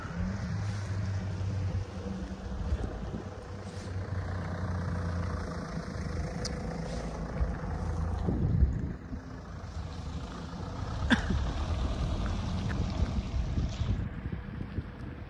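A Renault Clio 4 RS Stage 1, about 250 hp, with a stainless exhaust and dump valve, rumbles steadily as it pulls away with wheelspin, the engine note swelling midway and again near the end, with no talking.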